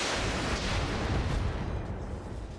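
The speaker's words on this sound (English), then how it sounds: "And simply fire with the SRMs." A volley of SRM missiles launches from a BattleTech mech in RogueTech, a dense, roaring burst of rapid blasts that holds loud for about two seconds before easing off.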